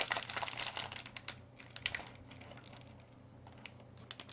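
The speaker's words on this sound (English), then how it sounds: "Sorry, I didn't get my bins ready, so you have to hear that crinkling" Plastic storage bins crinkle and rustle close by in quick, irregular bursts, louder at first and then settling into softer, scattered crackles.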